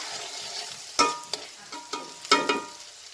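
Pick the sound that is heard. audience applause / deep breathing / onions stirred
onions stirred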